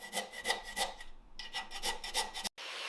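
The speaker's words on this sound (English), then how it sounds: "I'm gently brushing the rust off the frame, revealing the original metal beneath." Rust being brushed off the frame of a 64-year-old junkyard motorcycle, a steady rasping scrape in repeated strokes, close and fairly loud, pausing briefly midway and cutting off near the end.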